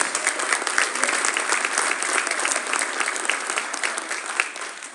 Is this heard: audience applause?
yes